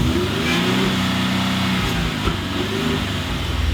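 A Gen 2 Ford Raptor pickup's engine with a rattling exhaust, heard close up as a steady rumbling drone with small uneven surges and a faint rattly texture, no speech.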